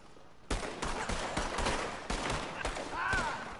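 Rapid bursts of gunshots in a Red Dead Online shootout, a loud, continuous crackle of overlapping shots after a brief quiet start, with a short whining ricochet near the end.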